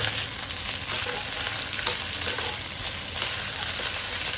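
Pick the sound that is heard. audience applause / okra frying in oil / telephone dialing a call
okra frying in oil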